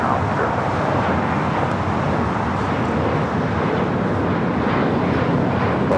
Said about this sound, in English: This is a Gulfstream G650ER